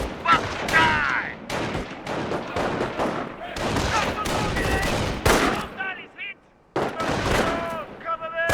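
Volleys of rifle and machine-gun fire from World War II infantry in Company of Heroes, dense crackling bursts broken by short pauses, with shouted voices mixed in.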